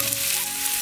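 Fish frying in hot oil gives a steady, dense sizzle that holds close and even throughout, with no voices.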